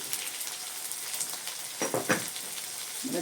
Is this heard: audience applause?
no